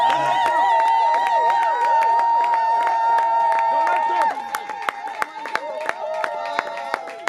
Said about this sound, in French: Applaudissons, s'il vous plaît.